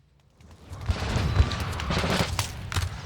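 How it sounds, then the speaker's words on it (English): Artillery booms and rolling gunfire in a Napoleonic battle at Borodino, played as a strategy game. The volley swells after a quiet start into dense, overlapping thuds and cracks with a few sharper reports near the end. "My artillery has taken action and they are firing upon the Russian artillery"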